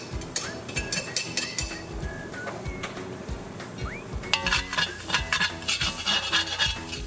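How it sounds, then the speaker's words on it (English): Stainless steel spatula scraping caramelization off a hot cast iron wok, repeated rasping metal-on-metal strokes and clinks over a faint background sizzle, fairly close and continuous. "the stainless steel spatula actually used in this case as a scraper to scrape off all the caramelization on the surface of the wok"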